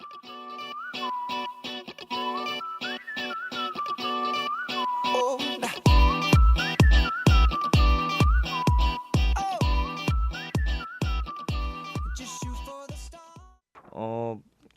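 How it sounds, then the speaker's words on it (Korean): A bright whistled melody opens a pop song alone, then a punchy, steady pop beat with thumping kicks joins under the whistling and music, ending briefly on a different phrase. "특유의 휘파람 같은 시작 부분과 쿵짝거리는 비트가 돋보였던 곡인 것 같습니다"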